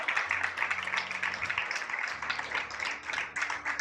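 A church congregation claps in praise during a Spanish-language sermon, a moderate, steady ripple of applause over a sustained low organ-like drone.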